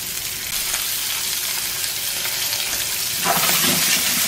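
Vegetables for chicken fajitas stir fry in a pan with a loud, steady sizzle and hiss. A brief burst of stirring or scraping lands near the end.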